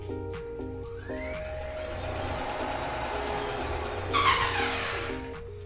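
A 1000-watt front hub motor on an e-bike conversion kit spins up with a steady electric whine that climbs in pitch, over a constant hum, with a brief brighter burst near the end.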